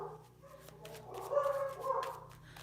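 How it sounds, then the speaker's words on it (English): Dogs bark faintly in the distance from a house by a trail, a few soft, high yips scattered over a low background hum, with no talking. "My dogs are barking"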